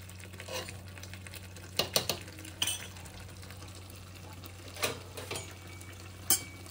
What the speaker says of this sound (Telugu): సో ఇట్లా మంచిగా మిక్స్ చేసుకోవాలి.